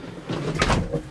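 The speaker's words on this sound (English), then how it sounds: "the door lever, just pull it down" The door of a 1986 MCI 96A3 bus, pulled shut by its lever, swings closed with a short mechanical rush and a soft thud at the end, heard up close.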